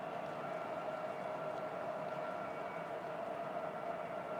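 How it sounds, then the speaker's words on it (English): Freight trains hauled by SD40-2 locomotives roll past in a steady, continuous rumble with a faint sustained tone running through it, moderately distant and unbroken. "I figured we'd get a little bit of sound going on these trains"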